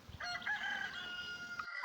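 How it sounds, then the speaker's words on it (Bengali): A rooster crows at dawn, a drawn-out, strained cock-a-doodle-doo at moderate distance, backed by faint clucking of other fowl before the sound cuts to silence near the end. "মোরগের ডাকের সাথে সকালের আলো ফুটে এলো"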